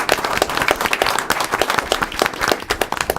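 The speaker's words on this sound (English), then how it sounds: "let's give him a round of applause" A room of people at a council meeting gives a sustained round of applause, dense, steady clapping from many hands close by that carries on without a break and without talk.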